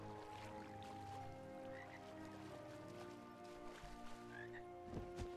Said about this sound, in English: The golden frog.